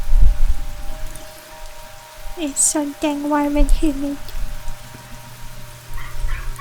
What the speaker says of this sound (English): Maybe I'm trying to manifest some rain by having rain sounds.